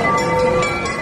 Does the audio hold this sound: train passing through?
yes